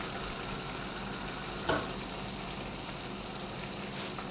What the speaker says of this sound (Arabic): حركوا شوي تحريكة صغيرة.